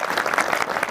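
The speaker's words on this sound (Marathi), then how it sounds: "खरंच एकदा टाळी वाजवा." A brief burst of applause from a crowd at a devotional kirtan gathering, close and fairly loud with dense clapping.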